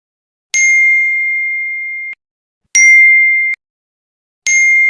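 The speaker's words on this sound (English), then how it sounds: "I'll just click on iPhone notifications." iPhone notification sound effect in CapCut, three bright sustained ding tones played one after another with gaps of silence, each ringing clearly before cutting off.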